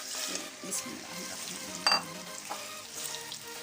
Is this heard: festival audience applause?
no